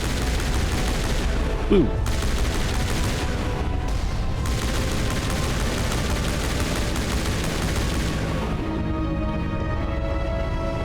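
Continuous rapid gunfire from regular rounds in the video game Mass Effect Legendary Edition, loud and dense throughout with a brief exclamation from a player partway in.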